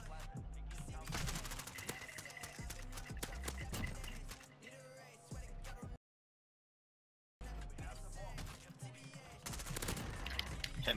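Gunfire in a shooting video game, dense bursts of rapid shots filling the mix with music-like game sounds, broken by a short silent gap before the shooting resumes.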